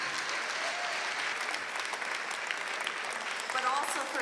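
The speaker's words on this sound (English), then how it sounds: "I'd like the audience to give you and your family, Andrej, a very warm round of applause" A warm round of applause from an audience, a steady, fairly soft wash of many hands clapping that continues evenly and swells slightly near the end.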